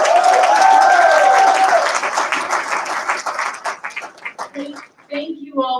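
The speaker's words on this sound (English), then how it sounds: "let's give another round of applause" Audience applause at a class of 2021 commissioning ceremony, a dense burst of clapping with scattered voices that thins out and fades over several seconds as the crowd settles.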